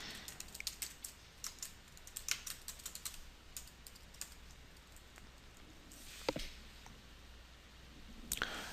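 A password being typed on a computer keyboard: quiet, irregular key clicks in short bursts, with a pause and a couple of sharper presses near the end, recorded close with no voices.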